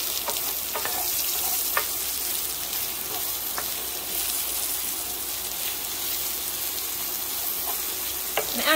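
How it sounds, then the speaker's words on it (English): Eight ounces of sliced cremini mushrooms sizzle steadily in a pan, a continuous crackling fry with occasional clicks of stirring, close and moderately loud with no talk. "8 ounces of sliced mushrooms that we're gonna cook here"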